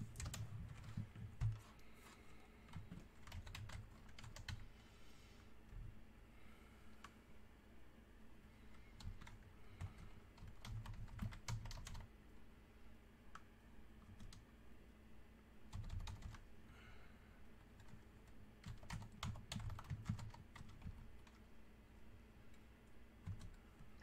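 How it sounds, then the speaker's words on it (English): Rapid, irregular typing on a computer keyboard, clacking in dense bursts separated by short pauses, close and moderately loud over a faint steady room hum. "Oh, literally almost busted the old handy dandy keyboard."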